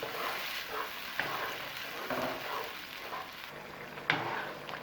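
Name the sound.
tomato paste frying with garlic in a pot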